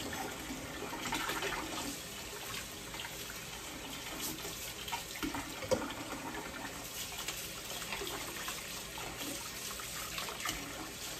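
Tap water runs steadily while a Weston meat cuber, a hand-cranked tenderizer, is rinsed with soapy water, a continuous faint splashing hiss with small clatters and no talk.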